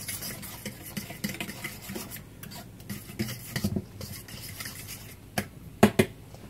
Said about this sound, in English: let's get this stirred up really good